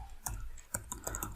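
Typing on a computer keyboard, a few separate close key clicks at an uneven pace, fairly quiet, with no talking.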